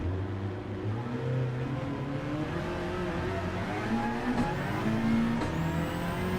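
Racing car engines in a Gran Turismo-style Gr.4 race game on a windy track, droning steadily with rising and falling revs as several cars slide and jostle; no talk.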